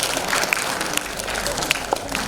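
An audience at a speech event at Ravindra Bhavan, Baina, Vasco in Goa claps in a brief burst of scattered applause, heard alongside some talk.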